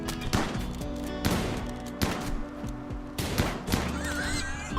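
Gunfire from a colony firefight in the video game Rimworld, several sharp bursts spaced about a second apart over a steady game background, with no talk.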